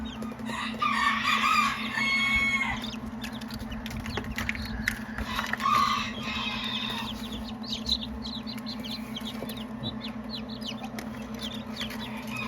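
Newly hatched Brahma chicks from an incubator peeping in a steady, high chirping chorus over a constant low hum, with a few louder bird calls near the start.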